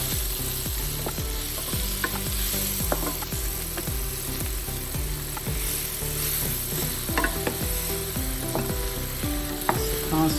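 Green beans and toasting pecans sizzle steadily in a pan while a spoon or spatula stirs them constantly, making repeated scraping clacks and knocks in a quick, uneven rhythm over the continuous frying hiss.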